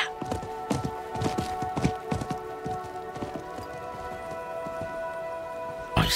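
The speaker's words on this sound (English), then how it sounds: "I think that was the merchant's horse." The merchant's horse in a Diablo 4 cinematic: a run of hoof clip-clops at a steady, fairly quick pace, close and moderately loud over a faint tonal background hum, thinning out toward the end.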